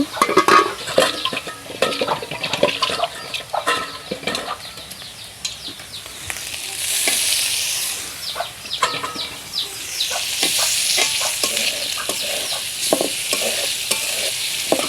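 Shrimp fry with spices in a hot pan, a constant sizzle and close, rapid stirring scrapes, with swells of hissing steam partway through; no one talks.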